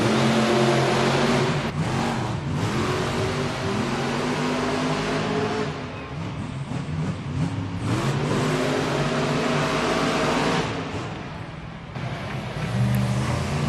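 Monster trucks launch off the starting line in an arena race, a loud sustained roar of big engines revving and accelerating, steady and dense throughout with no speech.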